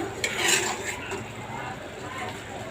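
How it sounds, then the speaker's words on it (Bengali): A spice paste is stirred and fried in a pan for a small-fish curry, with metal spatula scrapes and clinks against the pan over a low frying hiss; a voice speaks nearby. "মশলাটা ভালো করে কষাই"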